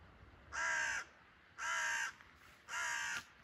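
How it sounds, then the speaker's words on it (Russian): A crow caws three times, loud and harsh, each call about half a second long with even pauses between. "Как будто просто ворона."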